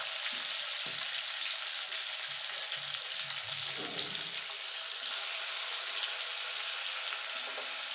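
Tomatoes stirred and fried in a pan for a vegetarian okra dish without onion or garlic, heard as a continuous even sizzle with soft, intermittent stirring noises underneath.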